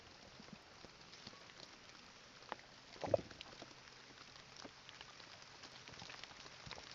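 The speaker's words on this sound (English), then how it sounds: "The rain is hitting the screen." Rain patters softly on a window screen during a rural chore day near a chicken coop, a faint, steady light tapping with one brief louder knock partway through.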